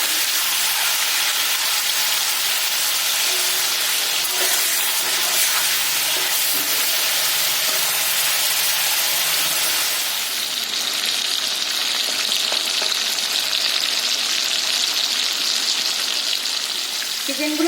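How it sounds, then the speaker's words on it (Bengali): Chicken pieces fry lightly in a pan of oil, giving a loud, even sizzle that runs close and unbroken throughout. "চিকেনগুলো একটু হালকা ভেজে নেবো, খুব বেশি কিন্তু কড়া করে ভাজবো না"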